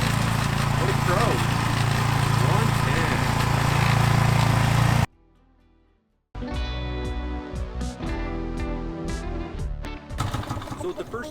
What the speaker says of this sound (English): So the first time you've ever used this mower, and now you're getting into a tight space with it